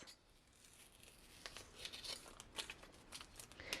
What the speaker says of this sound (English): now we're gonna peel our transfer tape off